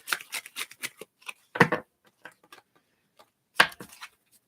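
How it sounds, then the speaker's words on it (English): A deck of tarot cards is shuffled by hand in a quiet room, with quick riffling and tapping near the mic, then scattered card slaps with pauses in between. "It was just a messy shuffle there."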